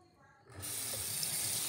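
Water gushes steadily from a bathroom tap, starting abruptly after a short quiet moment and then running as a continuous, close, bright hiss.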